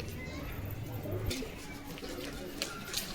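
A flock of pigeons released for a bath, with soft cooing and wing flutters over steady background noise, a few sharper flaps and splashes near the end.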